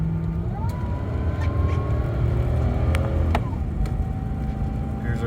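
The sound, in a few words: 2007 Lexus LX470 driving onto a highway on-ramp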